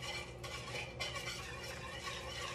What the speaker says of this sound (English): I'm just stirring around the heavy cream in the milk with the flour and the butter